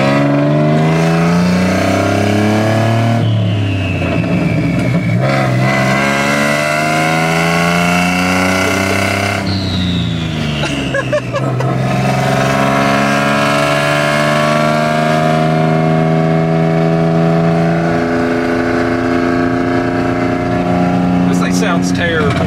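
A cheaply turbocharged Ford F150 pickup accelerating hard and building boost, with loud, continuous engine tones that rise steadily in pitch as the truck pulls and shifts over about twenty seconds.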